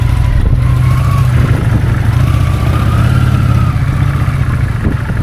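A Kawasaki Vulcan 800 motorcycle rides through foggy San Francisco at night, its engine a loud, steady, close drone with a low throb that holds the whole time, with slight shifts in pitch.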